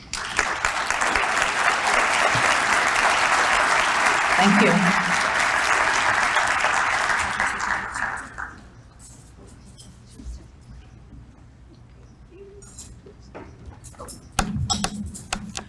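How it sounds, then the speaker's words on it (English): A round of applause at an annual dinner, dense clapping from a crowd for about eight seconds, then dying down into quieter room noise with a brief thank-you spoken and a few scattered taps. "can you stand up so we can give you a round of applause?"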